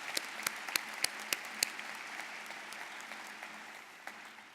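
A room of people applauds for volunteers at a community gathering, with moderate clapping that starts with a few distinct sharp claps and settles into a steady patter that fades slightly toward the end.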